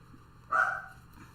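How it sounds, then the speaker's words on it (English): A single short dog bark or yip rings out clearly against a quiet background, fading quickly. "Goodness knows what he's barking at."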